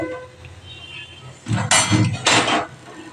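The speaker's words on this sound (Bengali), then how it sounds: "এবার আমি একটু ঢাকা দিয়ে দেবো" Two short metallic clanks of a lid set onto a cooking pot while a vegetarian cauliflower curry simmers, loud and close after a quiet stretch of kitchen background.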